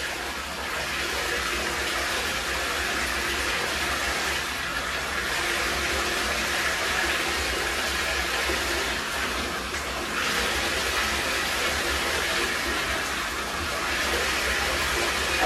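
Running water rinsing a micro exotic bully dog in a bathtub, a steady close hiss of spray and splashing that continues unbroken throughout.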